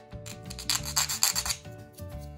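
Wooden craft sticks having their rounded edges filed smooth, a steady back-and-forth rasping of several quick close strokes, with no talking.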